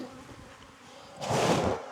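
Honey bees swarm up in a loud, dense buzz as a hive frame is shaken during an October mite check in a Florida apiary, the hum swelling abruptly in the second half after a quieter stretch.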